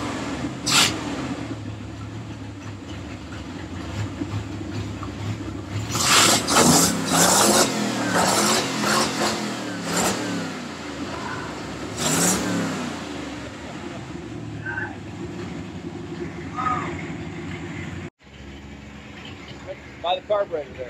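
A 327 Turbo Fire engine in a bug-out vehicle runs steadily at close range, with several sharp throttle revs swelling and falling back to a rough idle, and voices occasionally talking over it.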